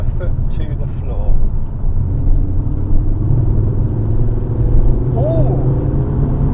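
Ford Focus RS MK2 engine pulling hard at full throttle in fourth gear from about 2,000 RPM, a steady low rumble building from inside the car, with a voice briefly heard at the start.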